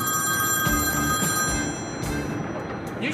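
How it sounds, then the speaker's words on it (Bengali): A landline phone keeps ringing in repeated bell bursts in a home, steady and fairly loud, while a faint voice mutters underneath. "কেউ যখন ফোনটা ধরতেছে না, এতক্ষণ ধরে বাজতেছে, আমি যাই ফোনটা ধরি।"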